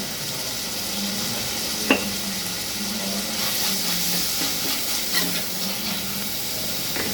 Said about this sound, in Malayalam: ഒരു 2 തക്കാളി അരിഞ്ഞതിട്ട് കൊടുക്കുന്നുണ്ട്. അതൊന്ന് വഴറ്റിയെടുക്കാം.